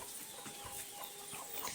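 Small hens and chicks on a poultry farm clucking and peeping softly, brief scattered calls over a faint steady background hum.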